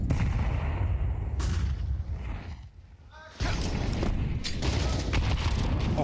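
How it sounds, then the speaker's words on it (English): A Counter-Strike match at a Major tournament: dense gunfire and grenade blasts roll on in the background. A caster talks excitedly over the noise the whole time. "Drew's got a couple of nades here for the half wall."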